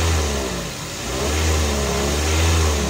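A Toyota Avanza with high mileage revs its engine, a loud close mid-pitched roar that rises, dips briefly, then climbs again, with no talking over it.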